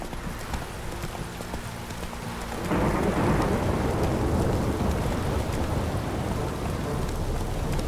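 Steady heavy rain hisses continuously in a video game (The Witcher 3: Wild Hunt) and swells louder partway through, with a low rumbling undertone and faint voices in the background.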